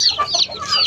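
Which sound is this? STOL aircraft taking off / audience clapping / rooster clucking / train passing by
rooster clucking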